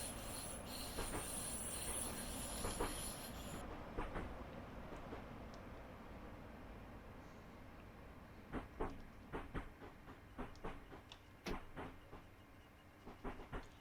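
A Class 466 electric train in a train simulator game runs along the line with a low rumble and scattered rail clicks. A brief brighter electrical whine at the start fades out, leaving sparse, irregular clacks.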